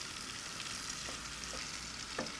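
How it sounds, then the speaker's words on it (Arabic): Onions slowly frying and caramelizing in a pan for Kuwaiti kishna, a soft, even sizzle with faint crackles, quiet and unhurried with no voices. "ابي لسه البصل يتكرمل"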